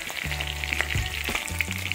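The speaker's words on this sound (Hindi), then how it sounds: "प्याज को अच्छे से भून लेना है," Chopped onions frying in a hot pan for a mixed vegetable dish, giving a steady close sizzle with brief stirring scrapes and a low hum underneath.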